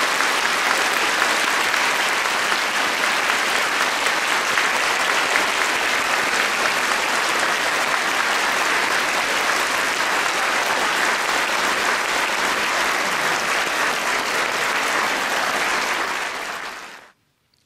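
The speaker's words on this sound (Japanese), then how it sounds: "盛大な拍手でお迎えさせていただきましょう" A large crowd at a Japanese religious ceremony applauds loudly and steadily for a long stretch, dense clapping that holds evenly before cutting off abruptly at the end.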